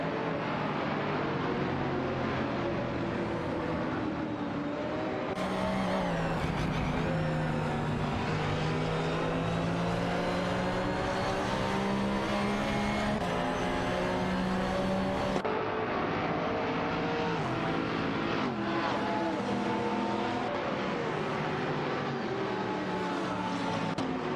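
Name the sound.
GT race cars racing in a video game, Marcos and Aston Martin DBR9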